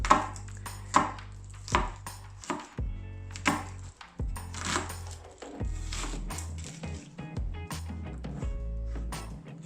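Onion being chopped with a knife on a board, a run of sharp, close knocks coming in quick bursts with brief pauses between them, heard alone without talk.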